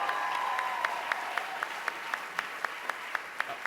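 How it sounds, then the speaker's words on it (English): Sparse, evenly spaced claps at an awards ceremony honouring actors, fairly faint over a steady hum, with no voices, more like a few people clapping than a full crowd. "Can I have a hand of applause for these amazing actors?"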